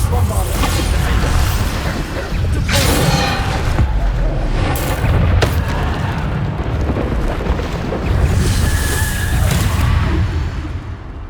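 Repeated loud booms from Bombarda spell blasts go off in Hogwarts Legacy, spaced a few seconds apart amid rumbling combat noise, with a voice shouting spell names throughout.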